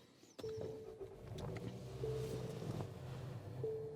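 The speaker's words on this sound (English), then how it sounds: "let's start the vehicle now" Engine of a 2021 Nissan Rogue cranking and catching, then settling into a steady, quiet idle with a faint tonal hum and occasional chimes, heard from inside the cabin.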